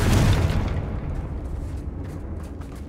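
A Confringo spell in the Hogwarts Legacy game sets off a loud, close explosion, a deep boom with a rumbling burst that slowly fades into a lingering roar, with no voices.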